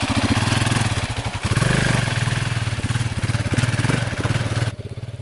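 A motorcycle engine held on a smooth, steady throttle, loud and close with a continuous throbbing drone that rises slightly and then cuts off abruptly near the end, with no talking.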